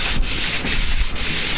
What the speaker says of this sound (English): But first, some sanding.